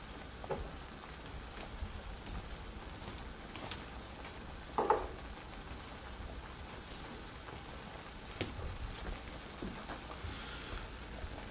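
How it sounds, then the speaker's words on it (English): Boeuf bourguignon liquid boiling in a pot turned up to reduce, a soft continuous bubbling and sputtering with a few louder pops and clinks scattered through. "Turned it up a little bit just to kind of boil off some of this liquid"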